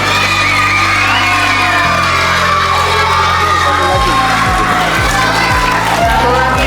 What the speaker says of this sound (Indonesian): Tepuk tangan dong buat Bu Wangi